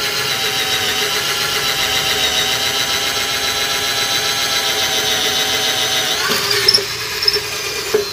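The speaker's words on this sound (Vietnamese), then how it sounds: "mấy anh chị thấy gỗ dày nhưng mà nó khoan cũng ok bình thường" A KARUTEN cordless drill bores into thick wood, its motor giving a steady, high whine for several seconds before the pitch wavers and breaks into a few louder bursts near the end.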